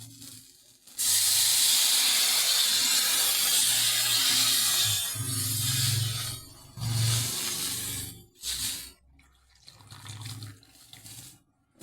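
Milk poured slowly into a hot pan for an egg and coconut curry, a loud steady hiss and sizzle that swells and fades in waves, with brief pauses near the end and no talking.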